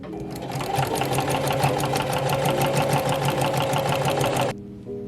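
A sewing machine stitches an upcycled jeans skirt in a fast, even, loud mechanical run close by, then stops abruptly just before the end.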